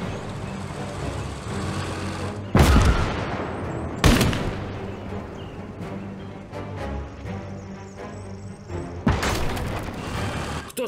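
Heavy artillery guns fire in Call to Arms: Gates of Hell, set in the Winter War, with several loud booming blasts spread across the scene over a constant rumble of battle noise and engines.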